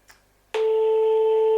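Telephone tone sounding on an outgoing call, beginning after a brief quiet click and then holding as a loud, steady, pure electronic tone.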